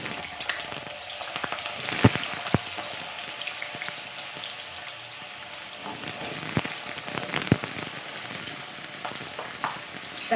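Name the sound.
potatoes frying in hot oil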